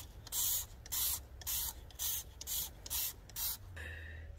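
Repeated bursts of a spray bottle misting treatment onto a sooty mold–covered plant outdoors on a windy day, about seven short hissing sprays in a steady rhythm, close and clear, then a softer lingering hiss.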